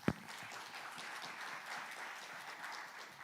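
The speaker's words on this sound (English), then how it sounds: "Let us welcome him with a big round of applause." Audience applause at the World Bio Summit 2025 session, welcoming a speaker on AI in health systems; a sharp thump opens, then steady, fairly quiet clapping from a room of listeners continues alone.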